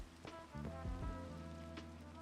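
Rain falling in the video game Minecraft, a steady soft patter spread across the whole clip, with some tonal game sounds layered over it.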